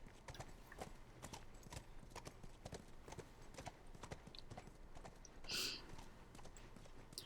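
Horse hooves clip-clop at a steady walking rhythm in The Last of Us. The playback is quiet and the hoofbeats are evenly spaced, with a brief breathy burst near the end.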